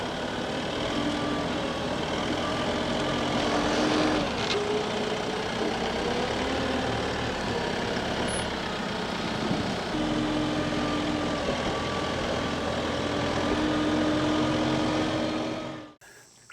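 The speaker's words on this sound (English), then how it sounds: "So we'll put the bucket on the tractor." A tractor's diesel engine runs steadily nearby while it shifts its bucket to push rotten logs, a constant rumbling drone with rising whines from the hydraulics, then cutting off abruptly at the end; no talking.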